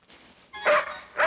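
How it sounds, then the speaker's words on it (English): A dog barks twice in quick succession, sharp and fairly close, after a brief faint whimper, with no talk over it. "Confounded dog is more trouble than he's worth."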